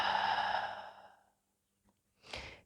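A long, breathy exhale during a yoga flow fades out over about a second and is followed by a quieter second breath, close and soft.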